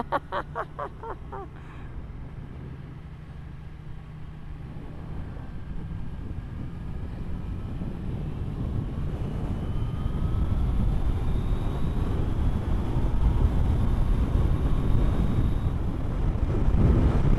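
A strong, continuous 70 mph wind roar builds steadily, blasting low and broad across the whole stretch, with a faint motorcycle engine hum underneath.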